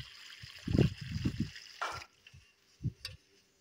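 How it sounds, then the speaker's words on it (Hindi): Water is poured into freshly dug soil, giving splashy gurgling bursts followed by softer trickles and a few later splashes, close by and with no talking. "तो और भी भर के ना इसमें पानी डाल देती हूँ।"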